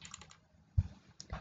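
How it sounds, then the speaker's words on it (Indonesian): Mouse clicks on a computer while working in a spreadsheet, a few quiet taps followed by a sharper double click near the middle and another click toward the end, with no talking. "Saya double klik di C2 dua kali"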